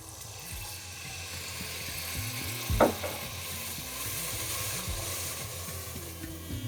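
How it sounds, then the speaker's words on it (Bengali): Spices fry in oil with a little added water for a pressure-cooker chicken curry, a quiet, steady sizzle broken by stirring scrapes and one sharp clank of a utensil against the pot. "এবার এই মশলাগুলোকে প্রথমে তেলের সাথে ভালো করে একবার মিশিয়ে নিন।"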